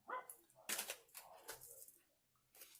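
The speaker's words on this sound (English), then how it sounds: "Sorry for the dog again." A dog barks indoors nearby, a few short sharp yelps and woofs spread across a couple of seconds, fairly faint, with light handling noises in between.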